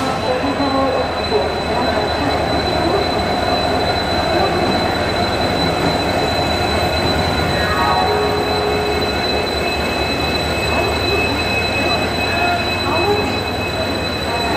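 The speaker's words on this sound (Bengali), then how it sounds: "ট্রেন অলরেডি 21 নম্বর প্ল্যাটফর্মে ঘোষণা করে দিয়েছে, কিছুক্ষণের মধ্যে ট্রেন ঢুকে যাবে" An express train rolls into a busy railway platform with a steady loud rumble, brief wheel squeals and a constant hum of station noise throughout, with voices in the background.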